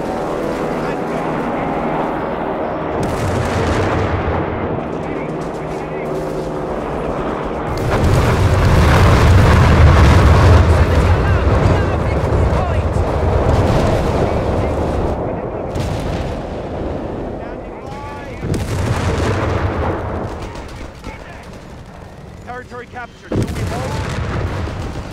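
Artillery fire and explosions rumble through a Company of Heroes 3 battle, with repeated deep booms and blasts, some near and loud and others farther off, alongside shouted voice lines from the soldiers.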